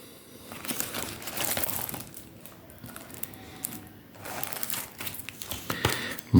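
Paper crinkles and rustles in several bursts as a folded tri-fold coin booklet is opened and handled close by, with short pauses between movements.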